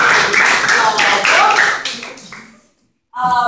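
Applause from parents at a school parents' meeting, a dense steady clapping lasting over two seconds that fades out, then a brief pause before a voice begins speaking.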